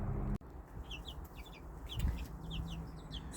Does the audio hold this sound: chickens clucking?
yes